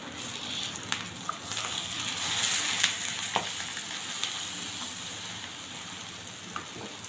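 Shami burger patties frying in a pan over a low flame, a steady soft sizzle with occasional small crackles and pops, close and fairly quiet, no talking.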